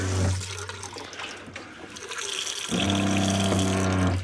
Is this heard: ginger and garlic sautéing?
no